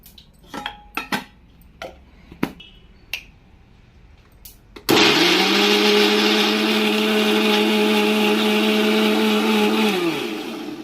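Scattered clinks of a jar and lid come first, then a mixer grinder roars to life, whirring loud and steady for about five seconds while grinding a paste for gravy before it winds down, with no speech.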